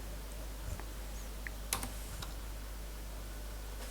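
Computer keyboard typing in a quiet room, a few sparse, faint key clicks and taps scattered over a low steady hum, with no talking.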